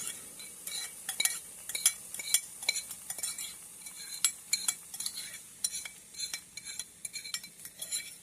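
A utensil steadily stirs strawberry blueberry jam cooking without pectin in a pot, producing faint, close, rhythmic scrapes and small metallic clinks throughout.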